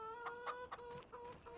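Chickens cluck in a large poultry barn holding 550 birds in the farming video game Farming Simulator 25, a quiet overlapping chorus of short clucks and calls with no voices.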